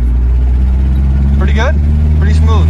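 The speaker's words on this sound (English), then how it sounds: "It has like no exhaust on it, that's why it sounds like that." Nissan S-chassis drift car engine running with no exhaust fitted, a loud steady low rumble and drone throughout, with someone talking over it.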